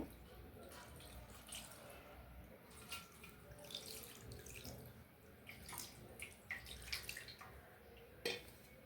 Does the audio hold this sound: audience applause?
no